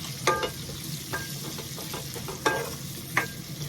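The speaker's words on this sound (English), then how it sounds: "then we give this a good stir" Ginger and garlic sauté in a pot for a one-pot chicken rice dish, a faint soft sizzle with a handful of light spoon scrapes and clicks as it is stirred.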